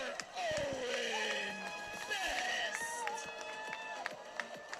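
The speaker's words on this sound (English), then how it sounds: "the home crowd here for the Gameday Angels making some noise despite trailing by 16" The home crowd at a Gameday Angels baseball game cheers after a solo home run by the visiting Hays Larks, a broad, moderately distant roar under a commentator's voice.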